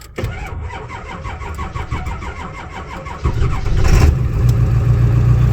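A 2001 Ford F-250 Super Duty with a weak battery after sitting parked for a week or two cranks with a rapid rhythmic starter chug for about three seconds, then catches and settles into a loud, low, steady idle close by.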